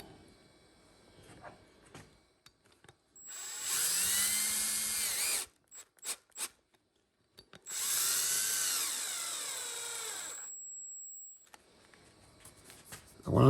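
A cordless drill drives 1 1/4 inch deck screws into wood, two long whirring bursts of about two seconds each, close and loud, separated by short clicks and quiet handling.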